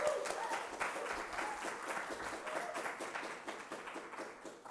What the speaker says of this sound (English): Round of applause for Allison.